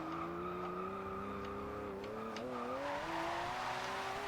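Car sliding sideways in 5th gear in the racing game Forza Horizon 2, a steady engine drone with slowly rising pitch and faint tire squeal running throughout, close and continuous.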